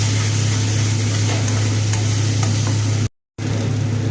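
Ground spice paste of onion, garlic, ginger and cashew frying in a pan while it is stirred. A loud continuous sizzle with a low steady hum beneath it, cut by a brief dead silence near the end.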